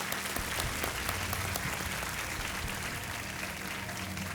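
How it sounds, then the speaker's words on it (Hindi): Studio audience applause on the Hindi quiz show Kaun Banega Crorepati, welcoming a guest with a dense, even wash of clapping that holds steady throughout. "तालियों के साथ हम इनका स्वागत करते हैं"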